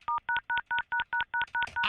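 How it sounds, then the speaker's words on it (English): Telephone keypad DTMF tones from repeatedly pressing the pound key, about nine evenly spaced short beeps at a steady quick rhythm, loud and clear with no talking. "I'm hitting pound."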